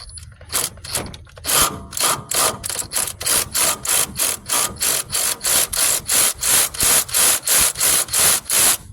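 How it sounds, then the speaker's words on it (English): A 1999 Ford Ranger nut comes off with an electric ratchet, heard as rapid, evenly pulsing bursts of buzzing and rasping, close and steady for several seconds. "We can try to zip it off with the electric ratchet."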